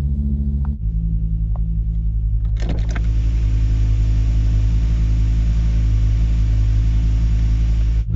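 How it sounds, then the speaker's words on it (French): Ford Focus ST engine idling steadily just after a restart, a close, loud, even low rumble that holds constant after a brief shift in tone early on, with no talking. "La voiture a à présent redémarré, donc je suis très content."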